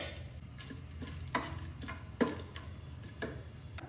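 Whole spices such as cinnamon, cloves and bay leaf frying in hot oil, a quiet steady sizzle broken by a few soft stirring scrapes and clicks at close range.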